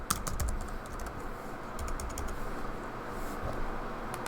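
Steady run of key clicks from typing on a computer keyboard while entering a company name into business CRM software, close and fairly quiet with irregular rhythm, heard alone.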